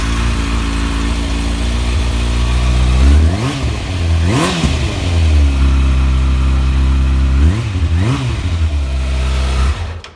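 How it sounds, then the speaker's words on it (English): A 2012 Kawasaki ZX6R motorcycle with an Akrapovic exhaust, baffle fitted, idles loud and close, then gives several sharp throttle blips. Two quick revs come early, and a pair follows later before it settles back to idle. "an Acra exhaust in it, which sounds spot on. I'll give it a fire up for you."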